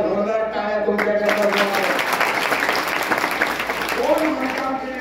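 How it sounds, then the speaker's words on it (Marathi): An audience at a spiritual guidance talk breaks into loud, dense clapping that rolls on steadily, with a voice speaking briefly at the start and again near the end. "जोरदार टाळ्या तुमच्याकडे"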